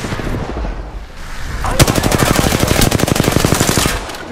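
Rapid automatic gunfire from enemies in the video game Apex Legends, a loud dense burst of repeated shots starting abruptly and continuing steadily for a few seconds before cutting off.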